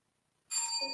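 A single bright bell strike rings out after a brief silence, its metallic tone sustaining and fading slowly.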